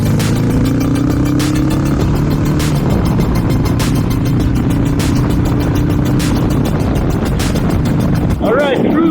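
A Harley-Davidson Sportster motorcycle fitted with a fairing pulls away and accelerates, its engine note rising steadily under strong wind rush, loud and close throughout, with a voice talking briefly over it.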